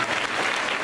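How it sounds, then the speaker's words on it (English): Congregation applause at a church youth week service, a dense, steady wash of clapping filling the whole moment at moderate loudness with no talk over it. "give the Lord big clap of praise"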